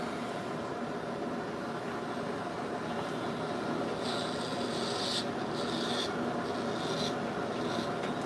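An electric trimmer cuts through beard hair up close, giving a steady, dense rasping buzz that grows brighter and scratchier partway through, with no talking.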